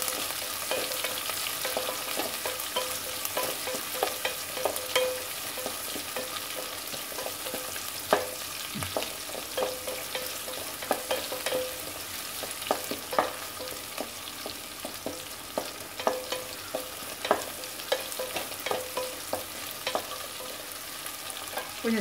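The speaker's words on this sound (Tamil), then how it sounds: "சின்ன வெங்காயம் கட் பண்ணி வச்சுருந்தோம் பார்த்தீங்களா, நல்லா பாதி வெங்காயம் போட்டுடலாம். வெங்காயம் நல்லா வதங்கட்டும்." Small onions (shallots) frying in a pan with steady sizzling, broken by frequent scraping clicks as they are stirred, moderately loud and close, with no talking.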